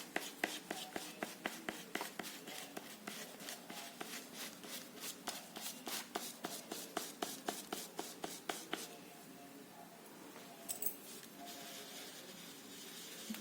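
Orange soft pastel dragged across paper in a steady series of short, scratchy strokes, close and fairly quiet, thinning out into lighter, softer rubbing near the end.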